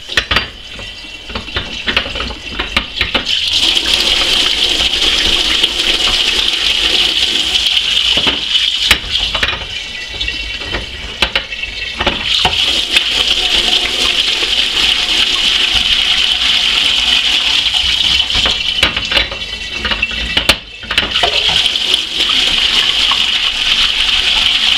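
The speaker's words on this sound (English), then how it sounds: "I'm going to rinse it out to remove all the bubbles and the traces of soap" Water gushes and splashes steadily inside a glass demijohn as it is rinsed clean of soap bubbles, a loud, continuous wash with brief breaks near two points, no talking.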